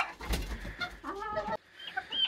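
A rooster gives a short, close crow followed by a few clucks, loud and clear against a quiet background.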